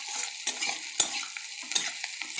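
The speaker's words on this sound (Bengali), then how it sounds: "দেখো পেঁয়াজটা ভাজা হয়ে গেছে" Chopped onion with green chillies and whole spices frying in oil in a pan for a Bengali potato and poppy-seed dish, a steady sizzle broken by several sharp scrapes and taps of a stirring spoon, close and without talk.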